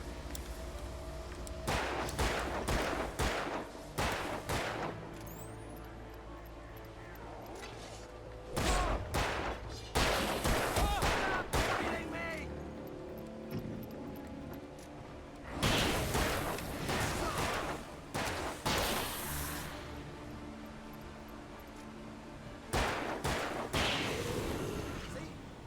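Repeated bursts of gunfire from the video game Alan Wake, loud clustered volleys separated by short quieter gaps, with game sounds filling the spaces between them.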